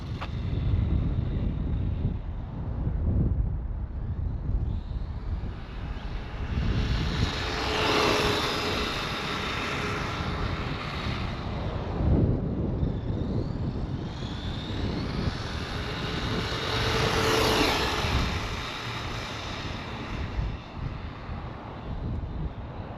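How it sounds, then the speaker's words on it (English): An Arrma Vorteks 550 Mega RC car running on a LiPo battery makes top-speed passes: a high-pitched electric whine rises and falls twice as it zips past, over steady wind buffeting on the microphone. "top speed test with the Lipo"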